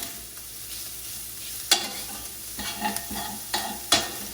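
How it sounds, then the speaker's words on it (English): Green onion being stirred into ramen frying with ground sausage in a pan, with a steady sizzle and several sharp scraping clicks of the utensil against the pan. "Stir in the green onion."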